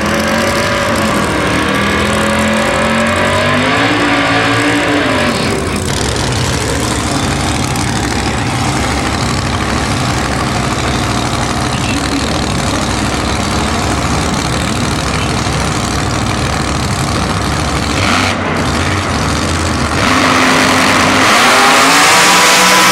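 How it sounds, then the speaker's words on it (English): Two drag cars at an eighth-mile outlaw 10.5 race, a roots-blown 521 cubic inch 1967 Chevy II and a nitrous-assisted 1969 Pontiac GTO, roar loudly and continuously with engines revving hard throughout. "he is racing T. Whedon in his nitrous-assisted 69 Pontiac GTO"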